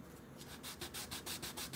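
A small RC differential gear part for an HB Racing D8 is rubbed back and forth on 300 to 400 grit sandpaper laid flat, giving quick, close, rhythmic rasping strokes, about six in under two seconds.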